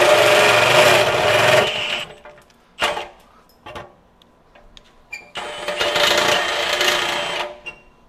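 A Hercules cobalt step drill bit, the largest size, bores without a pilot hole in two loud whining bursts, separated by a quiet stretch with a few short clicks and knocks.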